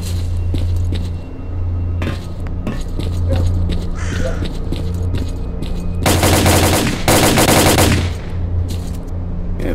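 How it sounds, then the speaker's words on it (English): Enemy gunfire in the video game STALKER Clear Sky, in the marshes: loud, close bursts of automatic rifle fire over a constant low engine-like hum, with a long intense volley in the middle and scattered single shots. "Is this guy gonna keep shooting again?"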